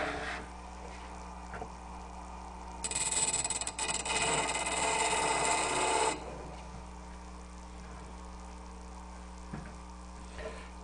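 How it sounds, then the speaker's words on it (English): Woodworking tool pressed lightly against a spinning grinder wheel while a bevel is sharpened, a steady loud grinding hiss lasting about three seconds over a constant motor hum that continues before and after. "make the same rotating motion to grind this one"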